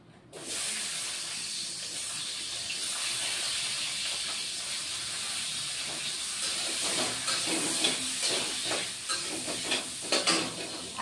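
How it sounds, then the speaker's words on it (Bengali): Potatoes fry in hot oil in a pan with a loud, constant hiss and sizzle, joined in the latter half by clattering stirring strokes against the pan; nobody speaks. "এখন বন্ধুরা আলুগুলি ভেজে নেব।"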